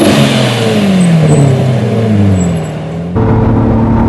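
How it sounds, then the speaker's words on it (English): Lamborghini Murcielago LP640 V12 engine roaring loudly and close, with pitch sweeping down as it blips through downshifts, a brief dip, then the revs surge again. "The sound with the downshifts is so good!"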